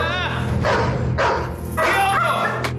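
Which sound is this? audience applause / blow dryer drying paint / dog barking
dog barking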